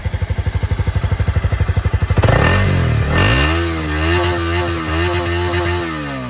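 A Honda CB250R motorcycle engine idles with rapid, even thumping pulses, then revs up and settles into a steady, loud running drone.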